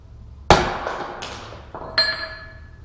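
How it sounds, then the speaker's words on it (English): A hammer strikes a metal tilt-bed hinge with a sharp metallic ring, followed by a second lighter hit and a third clanging impact, each leaving a bright ringing decay. "I'm taking a hammer to them"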